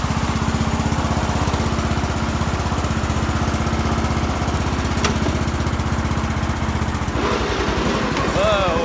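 Racing lawnmower engine running loud and close with a rapid, steady chugging drone, then revving and tires spinning near the end, with voices over it.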